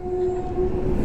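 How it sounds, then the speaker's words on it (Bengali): A goods train rolls across the Farakka bridge with a steady, loud rumble and a sustained tonal note like a horn held throughout; no voices. "ট্রেন পেলাম না, মালগাড়ি পেলাম।"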